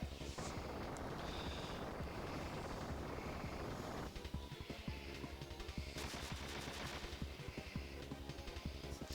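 Rapid bullet gunfire and impact bursts from a Super Mario RPG battle against Smithy, dense and continuous throughout with loud music-like game effects layered over it.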